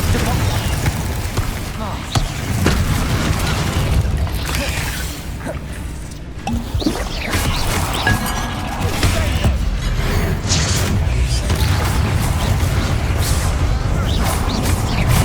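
Explosive spells like Confringo and Bombarda go off in the Hogwarts Legacy video game, a dense run of booms, crashes and whooshes over a continuous game soundscape, with a voice loudly shouting spell names throughout.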